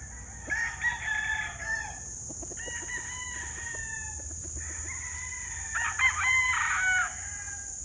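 Several roosters crow in turn, long drawn-out calls at moderate distance, with a few soft clucks between them over a steady high insect-like hiss.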